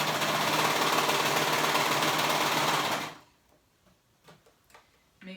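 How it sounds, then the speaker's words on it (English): A sewing machine runs fast and steady while stitching a band onto a kids romper, a loud, even whir lasting about three seconds before it stops, followed by a few quiet clicks and handling noises. "And everything is sewing nicely together."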